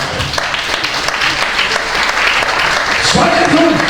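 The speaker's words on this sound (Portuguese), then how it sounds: "Então aplauda o Senhor por causa disso." A church congregation claps and cheers during a sermon, a loud, dense wash of applause with voices mixed in, rising and growing busier toward the end.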